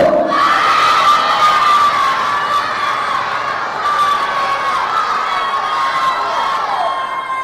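A crowd of young people shouts back an Islamic greeting to a preacher in a loud, ragged unison roar that swells at once and trails off over several seconds, with some high shrill voices standing out.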